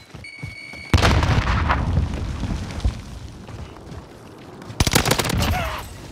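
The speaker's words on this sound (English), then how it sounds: "Throwing grenade!" A grenade goes off in a battle royale video game, with two loud, close blasts a few seconds apart and rumbling game noise in between.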